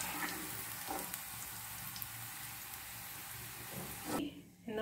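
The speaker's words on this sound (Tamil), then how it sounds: "இந்த மாதிரி நல்லா ப்ரௌனாக கிறிஸ்பியாக ஆகிற வரைக்கும் வறுத்து எடுத்துக்கோங்க." Okra frying in hot oil until brown and crispy gives a steady, soft sizzling hiss that runs evenly through the whole stretch, close by and fairly quiet.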